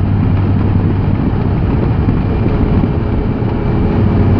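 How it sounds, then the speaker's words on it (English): Steady roaring wind buffets a rider at highway speed on a motorcycle along Siple Mountain Road in Virginia, a dense continuous rush mixed with low engine rumble, loud and close throughout. "if you ever need a dose of highway speed wind for, you know, 20 or 30 minutes or so"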